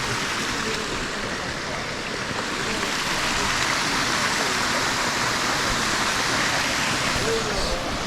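Steady, dense rush of a waterfall near Shivamogga with reduced flow fills the whole clip at a constant level, a broad roaring wash with no breaks.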